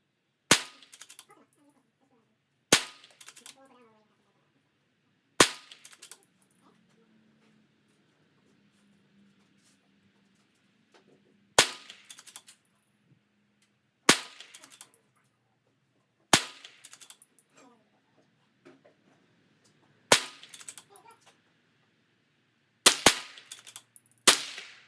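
Ruger Precision Rimfire rifle firing Aguila 22 pistol match ammunition at a 50-yard range, about ten sharp, separate shots spaced a few seconds apart, the last two close together, with quiet handling between them.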